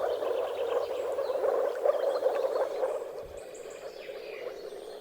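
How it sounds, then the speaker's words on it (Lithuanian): Moor frogs call together at a spawning gathering, a dense, continuous chorus of soft, bubbling croaks with faint bird calls in the background. "Praeinančios gervės tik trumpam tesutrikdo nerštui susirinkusias smailiasnukes varles."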